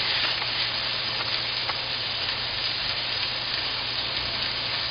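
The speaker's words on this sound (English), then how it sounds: "We're going to sear the outside, and that's where we're going to put it on our piece of tin foil" Moose tenderloin searing in oil and butter in a cast iron pan, a steady, even hiss of sizzling fat that holds without a break and with no talking.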